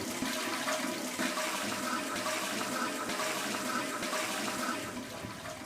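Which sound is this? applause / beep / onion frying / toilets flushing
toilets flushing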